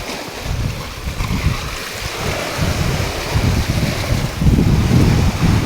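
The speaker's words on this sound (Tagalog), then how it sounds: "lakas ng alon." Strong ocean waves surge and wash continuously at an underground beach, a loud rumbling roar of surf mixed with gusty wind buffeting the microphone, swelling toward the end.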